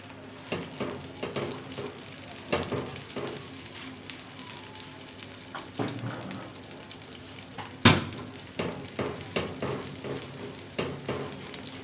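Butter and olive oil sizzle in a pan, a steady crackling hiss close by with a few louder spits and pops, including a sharp clatter near the middle; no one speaks.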